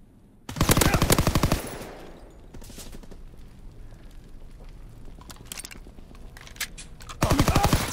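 Two loud bursts of rapid automatic gunfire in Call of Duty: WWII, one near the start and one at the end, with quieter scattered shots and rustling in between.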